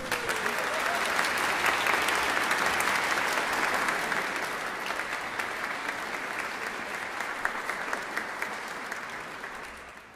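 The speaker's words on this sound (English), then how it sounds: "they definitely deserve a round of applause." A congregation applauds at a college Christmas carol service, sustained, even clapping from many hands in a large reverberant space, gradually tapering over about ten seconds.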